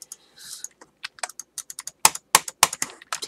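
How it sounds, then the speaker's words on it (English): A computer keyboard's space bar is hammered rapidly during a game, giving a burst of sharp, loud clacks in an irregular, quickening rhythm, close up and alone. "I'm spamming the space bar if you can't tell!"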